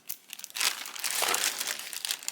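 A crinkly plastic bag of stickers being handled and squeezed, bursts of close, bright crackling and rustling that swell and fade over a couple of seconds, with no talking.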